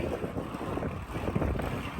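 Boat at the Langkawi jetty, a close low engine and water rumble buffeted by heavy wind noise throughout.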